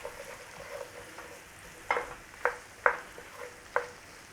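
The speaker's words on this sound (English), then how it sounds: "We're just going to saute off the onions and the leek, nice and gently." Onions and leek cook gently in butter in a pan with a soft, low sizzle, broken by a few sharp utensil taps and scrapes spaced about half a second apart; quiet and close, with no talking.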